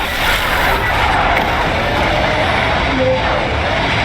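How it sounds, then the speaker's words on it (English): A steady, loud whirring electric car drive noise in a video game, with broadband hiss, continuous and unbroken throughout. "all electric vehicles in Red Rock make some sort of noise while driving"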